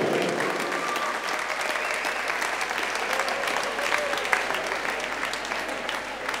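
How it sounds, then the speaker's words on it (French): Crowd applauding a dance crew at a Battle of the Year breaking quarterfinal in Mayotte, dense sustained clapping with scattered cheers and whoops, a few voices shouting over it. "On peut les applaudir."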